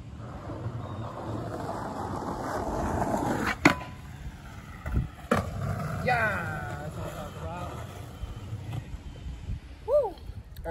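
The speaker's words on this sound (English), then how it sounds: "we're doing this board slide" Skateboard doing a board slide along a long park ledge, a grinding scrape with sharp wheel clacks and pops, heard outdoors with wind noise and voices talking over it.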